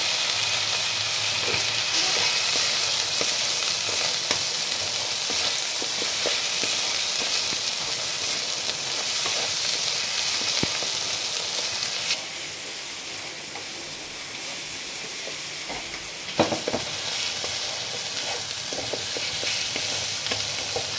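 Mustard spice paste for shorshe chingri fries in oil in a pan with a steady, close sizzle, punctuated by scraping stirs throughout and a brief clatter near the end.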